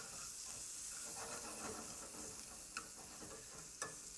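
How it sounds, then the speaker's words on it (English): Short ribs fry in a skillet with a steady close sizzle and hiss, broken by a couple of small sharp clicks from stirring or turning. "you want to make sure that you fry them all up first and get a lot of color on them."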